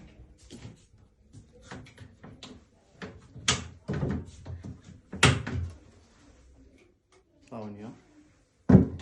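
Wardrobe cabinet doors on a bedroom furniture set are handled, with a few sharp knocks and thuds as they open and close while someone talks through most of the stretch.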